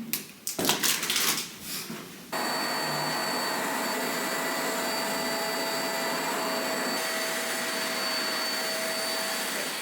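A carpet cleaning machine with cleaning solution starts up indoors after a few handling knocks and then runs as a loud, steady motor drone with a high whine, continuing to the end.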